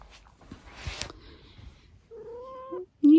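A pet male cat lying on a bed gives a drawn-out, wavering meow followed by a short second cry, close and clear after some soft rustling.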